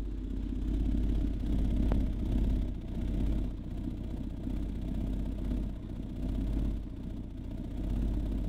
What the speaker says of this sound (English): You'll hear some what they call port noise.